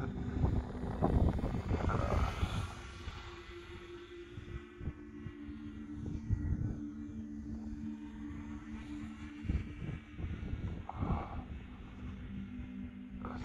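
Cold wind buffets the microphone during an RC glider flight outdoors, with loud, gusty rumbling throughout and a faint motor drone underneath.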